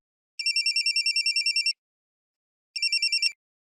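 A phone ringtone trills in a rapid pulsing burst, pauses, then starts again briefly before cutting off; bright electronic tone, no voices.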